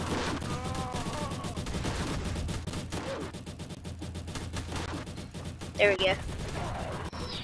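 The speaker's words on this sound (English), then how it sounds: "Got like a bomb dropped on him." Bomb blast and bursts of gunfire from Roblox Tower Battles, dense rattling combat noise throughout with a louder explosive hit near the end, while someone talks briefly over it.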